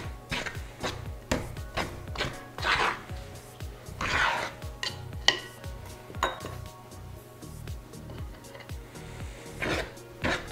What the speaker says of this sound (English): Notice I'm dragging my fork through the dough, not too much at a time